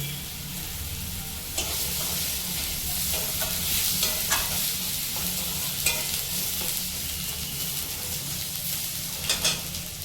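Whole chillies and cumin seeds sizzle in hot oil for a Bengali banana kofta, a steady close-up frying hiss with occasional crackles and stirring scrapes throughout.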